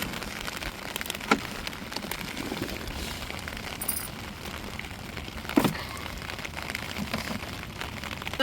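Steady rain falls at sea onto a small fishing boat out for prawns, a dense hiss of drops with occasional louder spatters and knocks.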